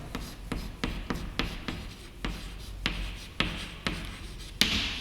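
Marker or chalk strokes on a classroom board during a physics lesson on light dispersion, a steady run of short scratchy strokes spaced about half a second apart, fairly close and alone.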